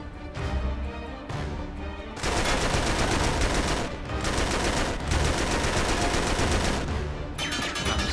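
Enemy weapons firing in Uncharted 3, loud and close: dense bursts of rapid gunfire run almost nonstop, broken by a few short pauses between volleys.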